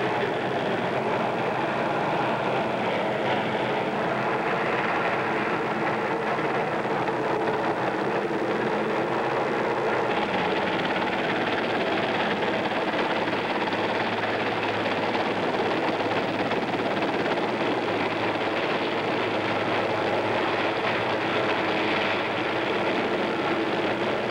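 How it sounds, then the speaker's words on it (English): A helicopter moves slowly during news coverage of Apollo 14, a steady broadband engine and rotor roar that stays constant and fairly loud for the whole stretch, with no voices. "And the helicopter, taking his commander's advice,"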